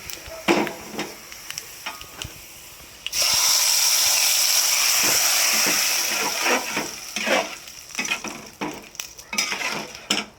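A browned fried mixture is tipped into a pan of vegetables, setting off a sudden loud sizzle that holds for a few seconds before fading, framed by clinking utensil scrapes and stirring knocks on the pan.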